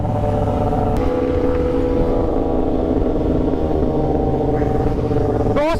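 A superbike accelerates at speed, its engine a loud, steady, close roar with a constant droning tone that holds through the whole stretch and shifts slightly at the very end.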